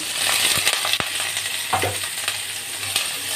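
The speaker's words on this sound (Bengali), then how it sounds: "এবার বেশ খানিকটা কুচানো পেঁয়াজ আর কাঁচা লঙ্কা একটু ফাটিয়ে দিয়ে দিচ্ছি।" Chopped onion and green chilli hiss and crackle in hot oil in a wok, loud and close, with sharp clinks and stirring scrapes breaking through; no speech.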